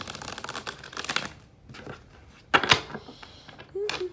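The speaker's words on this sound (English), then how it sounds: "So let me just shuffle these up for you" Tarot cards being shuffled by hand, several irregular papery riffles and slaps close to the microphone, separated by short quiet gaps.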